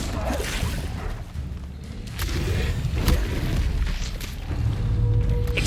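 Casting the Incendio fire spell in Hogwarts Legacy brings deep booming blasts and whooshing flares, with several thumps and swishes layered over continuous game ambience.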